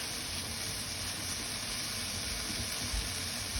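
Chopped yellow onion sautés in a pan for lasagna, a soft, steady sizzling hiss that holds evenly throughout without talk.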